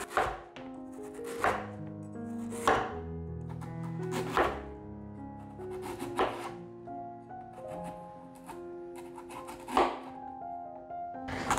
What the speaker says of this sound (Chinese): 把芋头削皮， 把削好皮的芋头切下来，把芋头切片。